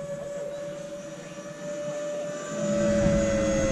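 An E-flite F-4 Phantom II 80mm electric ducted-fan RC jet flies overhead with a steady high whine and a rushing roar that swells louder toward the end, heard alone without voices.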